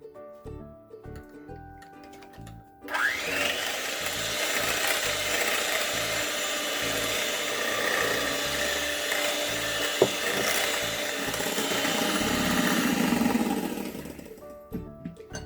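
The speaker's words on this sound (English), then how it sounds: "beat the eggs until they increase their volume" An electric hand mixer beats eggs and sugar, starting abruptly after a few quiet seconds and running steadily and loudly for about eleven seconds before cutting off, with a slight pitch shift near the end.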